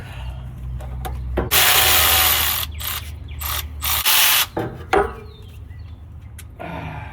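A ratchet wrench loosening bolts on the rear differential cover plate of an F-body Camaro with a 10-bolt axle, with loud bursts of rapid clicking separated by pauses and small metallic handling sounds, close up.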